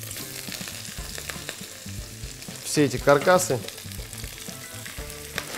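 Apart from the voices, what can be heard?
frying fish scraps in pan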